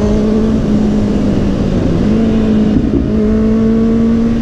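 A Kawasaki Z800 motorcycle engine drones loudly and steadily on the road as it is ridden, its pitch climbing slightly as the rider accelerates, with wind rush throughout and no talking.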